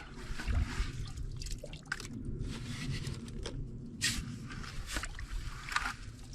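Water sloshes and trickles out of a Gold Hog flow gold pan tilted to drain while panning for gold, a soft continuous swishing with small splashes, close and quiet, no talking.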